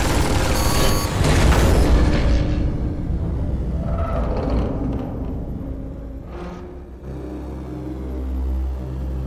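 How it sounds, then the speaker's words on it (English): Loud, dense game-combat noise from Tales from the Borderlands, with booming impacts and rapid bursts of gunfire that rumble on throughout, swelling and easing without any voices over it. "if I time it right, I can run through the gunfire"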